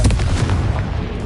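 A Confringo fire spell blast in Hogwarts Legacy, a single loud, booming burst that hits at once and rumbles away within a second or so.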